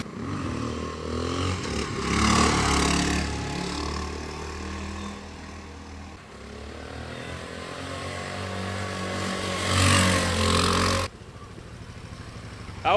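A Honda XR650 motorcycle engine revs hard during a wheelie, a loud, buzzing single-cylinder roar that rises and falls in pitch, surges again near the end, then cuts to a lower idle.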